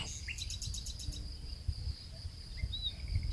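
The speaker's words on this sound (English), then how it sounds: "You can just hear the birds minding their own business, having a peaceful afternoon." Birds chirp in a quiet outdoor spot, with repeated bright tweets and short whistles near the start and again later, and faint insects buzzing under a soft low background.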